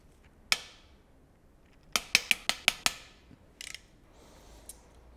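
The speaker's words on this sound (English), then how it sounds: "First, we need to remove these 4." A ratchet loosens main bearing cap bolts on a supercharged BMW V8, giving a single sharp click and then a quick run of six crisp metallic clicks, close and clear in a quiet workshop.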